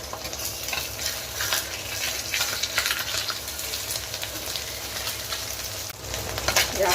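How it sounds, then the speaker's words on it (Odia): Small chuna fish frying in hot oil, a dense, steady sizzle that runs throughout, close by, with occasional stirring scrapes and no talk. "ଆଉ ଏଠି ମୁଁ ବସିକି ଚୁନା ମାଛ ଭାଜୁଛି"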